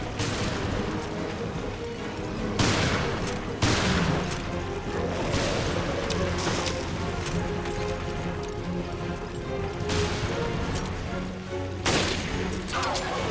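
Rifle fire in the video game Resident Evil: Revelations comes as a series of sharp, loud shots spaced a second or two apart, with a voice talking underneath.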